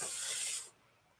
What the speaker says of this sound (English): I sprayed the cup with the WD-40 spray